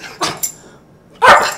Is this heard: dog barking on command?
yes